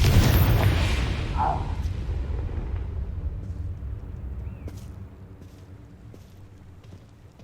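Confringo blasting curse explosion in Hogwarts Legacy: one loud, close boom that strikes hard at the start, then rumbles and slowly fades over several seconds.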